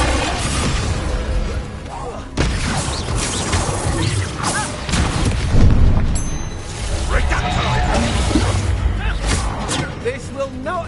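A Bombarda blast spell explodes in Hogwarts Legacy with a sudden loud crash. Heavy booming bursts and clattering debris rise over a dense, busy game mix that carries speech-like voices throughout.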